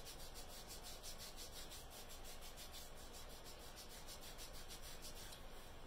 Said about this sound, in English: Rub it really well to get the adhesive